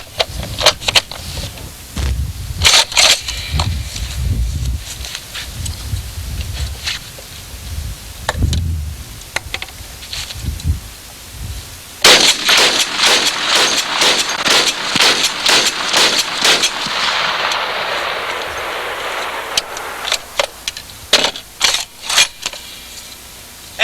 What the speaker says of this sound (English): We'll fire off a few rounds just to give you an idea of the